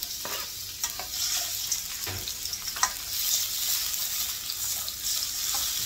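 Onions fry in olive oil in a pan, a steady loud sizzle with occasional stirring scrapes throughout.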